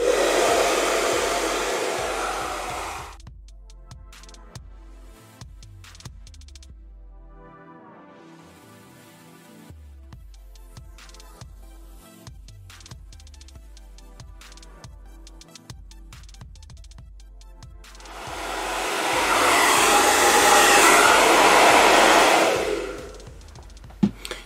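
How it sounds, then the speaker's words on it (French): A powerful hair dryer blowing hard while drying hair, roaring loudly for a few seconds, cutting off into quieter handling sounds, then roaring again near the end before shutting off. "Ce sèche-cheveux souffle tellement fort qu'il a encore réussi à faire tomber mon coussin."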